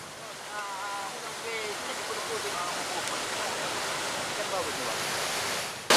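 A fast, swollen river current after a flood and landslide rushes in a dense, steady roar of water, with faint voices in the background.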